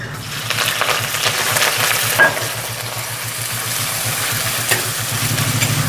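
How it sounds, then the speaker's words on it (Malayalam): Crushed green chillies and large onions frying in hot oil for a coconut milk curry, a steady close sizzle with occasional stirring scrapes and a low background hum, no speech. "അതൊക്കെ ചതച്ച് വെച്ചേക്കണം അതാണ് നമ്മളൊന്ന് എണ്ണയിലേക്ക് ഇടുന്നത്"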